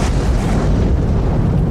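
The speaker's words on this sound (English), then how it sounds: "You hear the crash of a bolt of lightning." A storm's lightning bolt lands as a deep, loud rumbling crash, a dense low boom that rolls on for about two seconds without fading.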